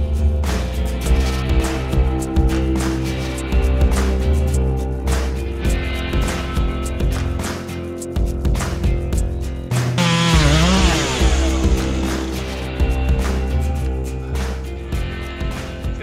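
A chainsaw cuts wood on a poorly sharpened chain. The engine snarls loud and close the whole time, and the pitch dips and swings midway as the saw bites in and revs back out. No one speaks.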